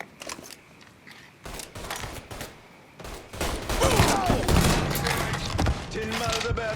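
Dense bursts of gunfire and rapid volleys in Mafia III, building from scattered shots into a loud, sustained firefight with thuds and mechanical clatter, a voice faintly mixed in.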